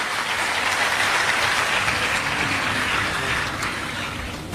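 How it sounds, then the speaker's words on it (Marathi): An audience at a Marathi lecture claps steadily for a district collector, a dense sustained wash of applause that eases slightly toward the end, with no speech. "सगळ्यांनी जिल्हाधिकारी महोदयांचं आपण टाळ्या वाजून स्वागत करूयात"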